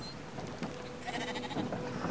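Sheep in the video game Brothers: A Tale of Two Sons bleat several times in close succession, fairly near and moderately loud, with a faint rumble underneath.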